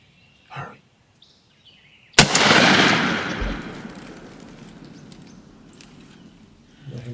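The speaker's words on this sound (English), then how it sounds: "Go ahead and shoot him." Single loud, close gunshot fired at a wild turkey during a spring hunt, with a sharp crack and a long rolling echo decaying over several seconds outdoors, following faint voices before the shot.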